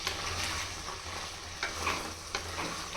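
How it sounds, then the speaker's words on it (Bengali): Flat bean seeds are stirred together with pieces of frying shol (snakehead) fish in a hot pan, producing a busy, continuous sizzle with repeated spatula scrapes and soft knocks, close and loud, with no talking. "এখন সবগুলো একসাথে ভালো করে নেড়ে নিব।"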